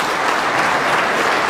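Crowd at the 2011 UK Snooker Championship final between Judd Trump and Mark Allen breaks into steady, dense applause, loud and continuous throughout with no voices above it.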